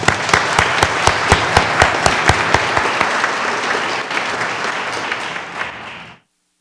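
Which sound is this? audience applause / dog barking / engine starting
audience applause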